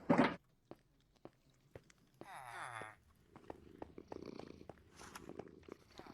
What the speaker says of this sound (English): Look at this kitty.